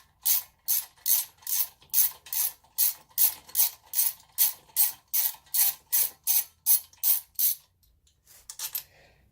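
Ratchet wrench loosening a rearset bolt on a Honda Grom MSX 125: about eighteen rapid, evenly spaced ratcheting bursts, close and crisp, then a pause and a short final burst, with no talk.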